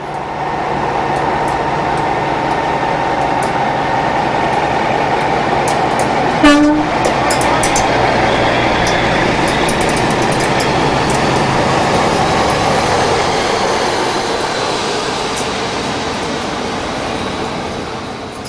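A charter train pulls away from Keighley on a return run, its loud, steady rumble and clatter rolling close by throughout, with a short horn blast cutting in partway through.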